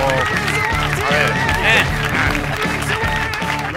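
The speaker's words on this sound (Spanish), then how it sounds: "pido un fuerte aplauso para David Broncano" Studio audience applause for comedian David Broncano on a Spanish comedy show, steady and loud throughout, with music playing underneath.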